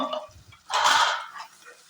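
A short wet splash and sizzle as pureed tomato is poured into a pan of fried ginger and garlic, brief and close, between faint kitchen clatter.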